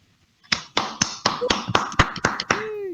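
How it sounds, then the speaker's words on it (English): A handful of people clapping at a Datathon 2020 awards ceremony, starting after a short silence with sharp, spaced claps close by and a brief tonal squeak near the end. "I want to applause Ivan."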